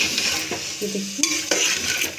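Potatoes, chickpeas and chopped tomato are stirred in a pan with a spoon, giving a few scraping strokes over a soft sizzle, close and fairly loud with no talking.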